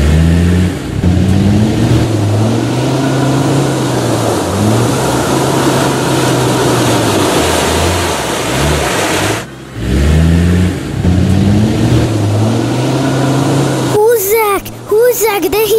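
Toy vehicles including an excavator, garbage truck, police SUV, small monster truck and station wagon revving engines while pulling a stuck little car, loud wavering engine drones rising and falling, with a brief break and talk near the end.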